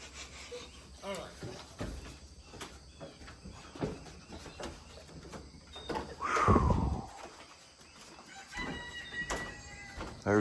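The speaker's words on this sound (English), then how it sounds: "There's our buddy Rooster" A rooster crows once midway through, a rising then falling call over outdoor rustling and occasional speech, fairly close and loud.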